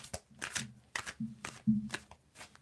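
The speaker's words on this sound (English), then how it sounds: "You tell me when to stop shuffling." Tarot cards are shuffled by hand in about six quick, crisp bursts at a steady rhythm, close to the microphone, with a low hum underneath.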